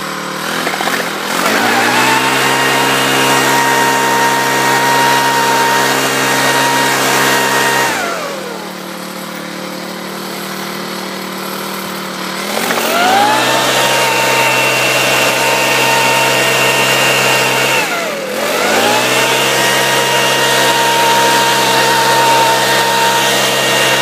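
A Troy-Bilt four-stroke trimmer with a blower attachment, blowing water around, roars steadily at high revs, drops briefly to a lower idle, then revs back up, twice over; loud and close, with no voices.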